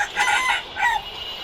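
Chickens cluck and call in two quick bursts on a rooftop where chicks are being brooded, close and fairly loud with no talking.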